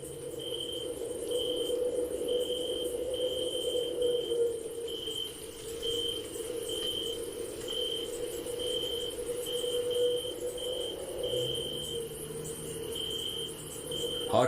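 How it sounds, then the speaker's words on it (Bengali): Crickets chirp continuously at night, a loud steady high pulsing trill that runs unbroken from start to finish with no other sounds. "ঝিঝি পোকার একটানা তীব্র ডাক পুরো পরিবেশের নিস্তব্ধতাকে আরো বাড়িয়ে তুলেছে"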